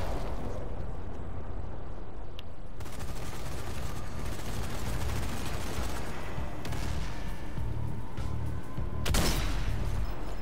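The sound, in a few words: machine gun fire from an enemy gunner in Zombie Army 4 video game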